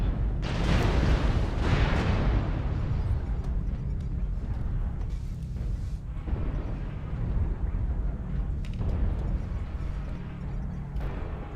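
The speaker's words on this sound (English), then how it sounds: "There's a mech back here shooting me" A mech in a video game fires at the player: loud, dense booming blasts and heavy gunfire rumble continuously, with a few sharper bursts standing out.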